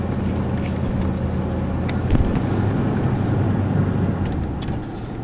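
A truck engaged in four-wheel drive drones steadily with a low, constant engine and drivetrain rumble, fairly close, with a brief knock partway through and no talk.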